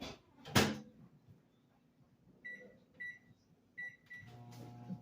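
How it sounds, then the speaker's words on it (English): A thump, then a few short electronic beeps, followed by a microwave oven starting up with a steady low hum. "So we're gonna throw it back in the microwave."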